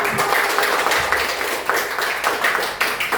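A group of children clap their hands during a classroom lesson, a busy, close chorus of overlapping claps with a few sharper strokes standing out over about three seconds.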